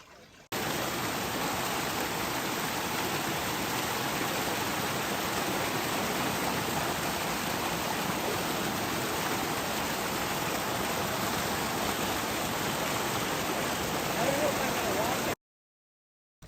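Waterfall at Liard Hot Springs roaring as a dense, steady broadband wash of falling water, loud and close, unbroken for about fifteen seconds before cutting to silence.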